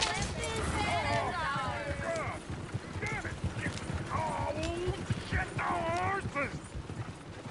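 Horse-drawn coach in Red Dead Redemption 2, hooves clip-clopping steadily with wheel rumble, a horse whinnying, and a dog barking, while people talk over the scene.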